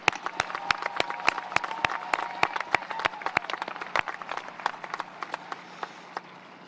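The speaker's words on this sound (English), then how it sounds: "I'm going to ask for one more collective round of applause for all of your accomplishments" Sharp, distinct claps echo through a high school graduation hall, a few hands striking loudly and irregularly over a background of scattered crowd applause that thins out toward the end.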